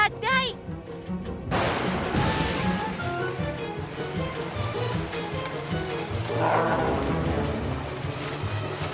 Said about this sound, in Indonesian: Awan badai.